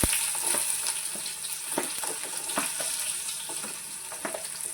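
Chopped onions frying in hot oil in a pan, a steady close sizzle with scattered crackles and pops throughout.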